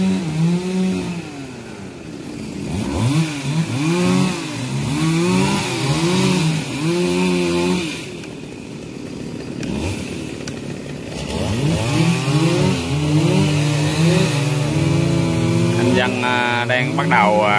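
Several chainsaws, four at once, cutting down a large old tamarind tree, their engines whining and revving in overlapping loud waves that dip briefly midway, with voices now and then over the din.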